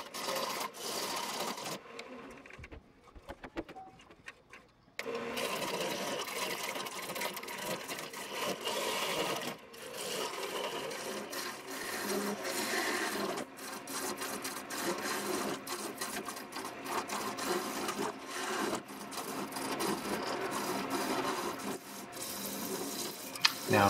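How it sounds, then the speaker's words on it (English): A wood lathe turns a mulberry blank while a diamond parting tool evens up the ends, giving a steady, loud whir with scraping cut noise that drops briefly near the start and then runs continuously. "using my diamond parting tool just to even up the ends and get rid of those out of balance pieces"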